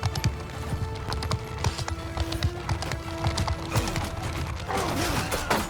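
Horse hooves clip-clop and gallop in Mount & Blade II: Bannerlord, with rapid overlapping hoofbeats, a faint whinny and battle noise from the game beneath them at moderate loudness.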